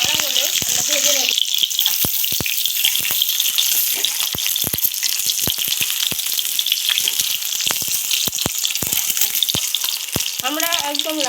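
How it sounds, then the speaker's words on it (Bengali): Eggs sizzle in hot oil in a wok, a loud continuous frying crackle close by, with sharp spattering pops throughout and faint background voices at the start and end. "কড়াইয়ে তেল দেওয়া হলে আমরা একে একে ডিমগুলিকে ছেড়ে দেব।"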